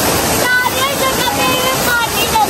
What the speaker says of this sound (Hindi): हाँ हर जगह पे पानी पानी है।